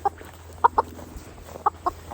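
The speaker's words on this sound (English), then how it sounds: "here they are. They're two roosters and they're so pretty." Two roosters make short, soft clucks in scattered pairs, close by, over a low background hum.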